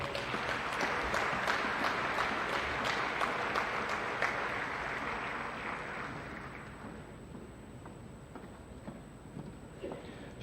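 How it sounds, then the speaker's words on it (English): Audience at a university degree convocation clapping in a sustained, dense round of applause that gradually thins and fades toward the end, heard alone without talk. "please continue the round of applause as hard as you can"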